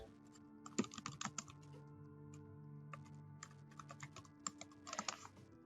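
Steady typing on a computer keyboard while a case note is entered, with quick bursts of keystrokes, short pauses and a few louder clacks, close and fairly quiet, no voices.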